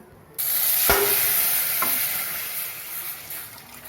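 Mustard seeds hit hot oil with a sudden loud sizzle that continues steadily, with a couple of sharp metallic clinks of a utensil.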